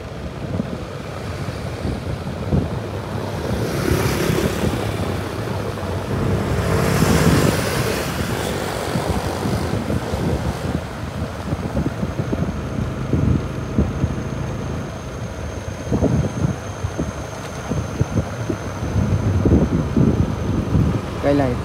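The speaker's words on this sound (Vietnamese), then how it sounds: "gió thổi mạnh quá" Strong wind from Typhoon Yagi roars through trees on the outskirts of Hanoi, a loud, gusting rush that swells and eases over about twenty seconds, with a person talking over it and occasional traffic noise.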